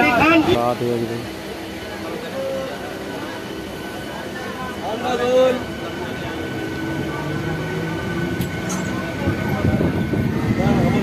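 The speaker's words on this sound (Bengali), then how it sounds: "আর ফুলগাছিয়া দিয়ে ট্রেনটি এখন ঢুকছে" A passenger train pulls into Phulgachi station with a continuous rumbling, rattling drone, while a person talks over it throughout.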